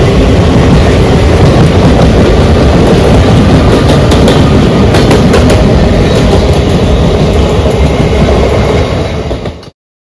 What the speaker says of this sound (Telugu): చూడండి ఎట్లా పోతుంది ట్రైన్ చూడండి